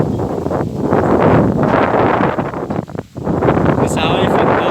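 Strong outdoor wind in a Thai farming area at harvest time, gusting loudly across the microphone in a heavy roaring rush that dips briefly midway, with a faint voice near the end.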